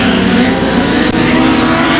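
Race cars roaring around the 281 Speedway oval during a race, a dense continuous engine drone with a steady pitch, loud and close throughout with a brief dip in the middle.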